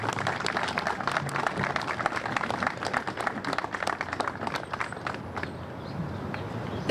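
Crowd applause at an outdoor Hero Square dedication ceremony, a dense continuous wash of clapping from many hands that holds steady for several seconds before thinning toward the end.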